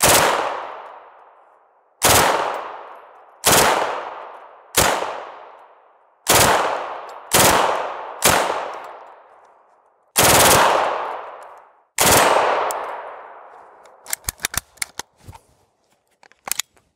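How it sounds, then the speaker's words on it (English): An M4 rifle firing 115 grain full metal jacket ammunition lets off eight loud, sharp single shots at uneven intervals, each ringing out and decaying, followed by a quick burst of clicks and rattles. "The M4, generally not so much, but let's try this out. Firing 115 grain, full metal jacket ammunition, 30 round magazine."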